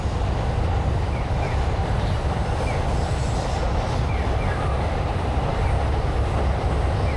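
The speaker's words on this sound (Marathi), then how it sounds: "हे बा शिंकानसेन द बुलेट ट्रेन" A Shinkansen bullet train rushing past in Tokyo, a loud, continuous broadband roar and rumble with faint wheel clatter sustained for several seconds, close by and with no talking.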